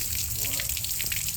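Water gushes loudly and steadily into a makeshift pool built in a pickup truck bed, a dense continuous rushing splash that fills the whole short moment.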